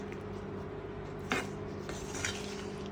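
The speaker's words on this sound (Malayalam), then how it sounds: "നമുക്ക് ഇളക്കാം." A spoon scrapes and knocks against a pan while a carrot, potato and green pea curry is stirred, giving two or three brief metallic scrapes over a low steady hum, fairly faint and without voices.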